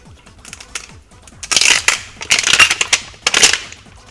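Crinkling and tearing of a Pokémon card pack's foil wrapper, starting with light scattered rustles and then building into louder bursts of crackling foil, with no talking over it.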